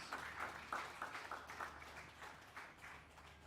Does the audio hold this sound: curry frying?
no